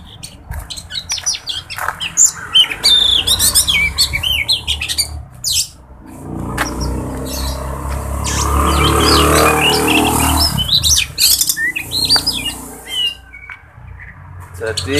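Caged magpie robins (kacer) set out to sun-dry chirp and call in bright, scattered bursts at close range, while a stretch of low talking and rumbling rises beneath them midway.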